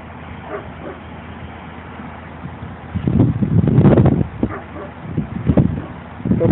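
A dog lets out a few sharp barks and whimpers close by, with a person's voice talking in between.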